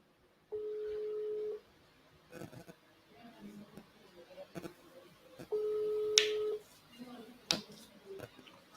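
Steady telephone tones sound in two separate one-second bursts, with scattered faint clicks and ticks in between and a couple of sharp snaps near the end. Nobody speaks.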